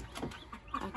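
Newly hatched chicks and grown hens kept in a small board-and-cardboard enclosure give faint, brief clucks and peeps.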